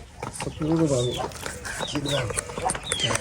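A rooster, Korean-type fighting breed, giving clucks and short calls close by, partly overlapped by people talking.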